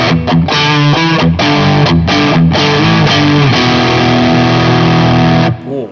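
Electric guitar run through two stacked overdrive pedals, loud and heavily distorted, a choppy riff of chords with short breaks giving way to a long sustained ringing chord that cuts off near the end.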